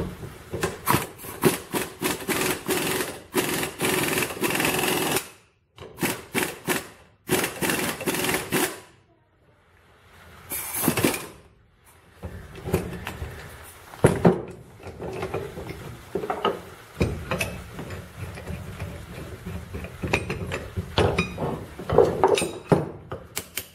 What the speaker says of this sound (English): now we're ready to press the caps out of this side of the U-joint.